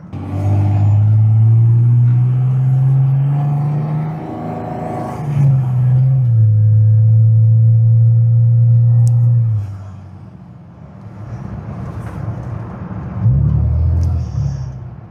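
A 2007 Dodge Ram truck engine revs loud and close, holding a steady drone, dipping briefly, then climbing again before cutting off and settling into a quieter rumble.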